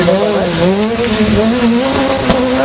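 Rally cars race on a gravel stage at the Barbórka Rally at Bemowo, a loud, steady engine roar with rising and falling revs as a car drives hard nearby, no voices over it.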